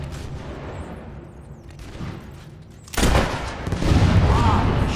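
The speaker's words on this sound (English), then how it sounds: "Shooting." Gunfire in Fable 3 erupts as a dense, rapid volley of shots, with an earlier muffled exchange building into a louder burst of sustained firing near the end.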